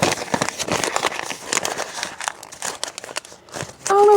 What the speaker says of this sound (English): We're going to crunch this paper up.